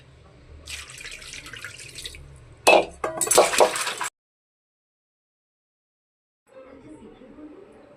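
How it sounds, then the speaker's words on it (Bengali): A fresh rohu fish washed under running tap water in a kitchen sink, water splashing in bursts, loudest briefly, then a silent gap before a softer trickle resumes. "চলুন মাছটাকে ধুয়ে নেওয়া যাক।"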